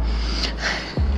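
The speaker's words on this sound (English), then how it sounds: "yawning" A person yawns late at night in a hotel quarantine room in Shanghai: a long, breathy drawn-out exhale, close and fairly soft, ending in a brief low catch of breath.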